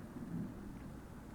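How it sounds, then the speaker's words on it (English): Distant thunder from the video game Cooking Companions, a faint, steady low rumble that rolls on without a sharp crack. "I hear thunder still in the distance, too."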